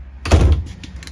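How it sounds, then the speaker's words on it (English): A reinforced drawer in a 2019 Lance 1995 travel trailer slides shut, ending in a single solid thunk close by, followed by a quiet tail of faint rattles. "Reinforced drawers."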